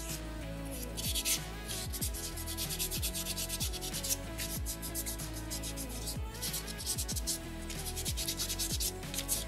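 Sandpaper rubs back and forth on a small soapstone beaver carving in rhythmic, close, scratchy strokes that continue steadily throughout, with no talking.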